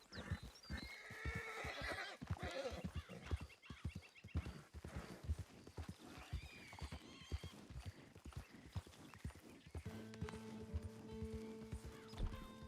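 A horse in the video game Red Dead Redemption Online whinnies with a clear neigh, and irregular hoof clip-clops follow nearby. A steady tonal hum enters toward the end.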